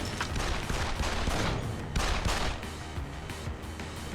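Rapid bursts of gunfire in the Deus Ex: Human Revolution video game, dense overlapping shots crackling through the first half, then easing to sparser reports, loud and close with no talk over it.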